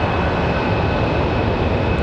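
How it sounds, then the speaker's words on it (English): A loud, steady aircraft engine run-up test roars continuously at close range at Raleigh-Durham International Airport, a dense unbroken drone with a faint high whine above it. "Running an engine test."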